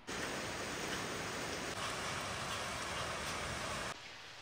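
Steady, continuous rain falling in the Uttarakhand mountains, a dense even hiss that holds unbroken for about four seconds before dropping off suddenly near the end.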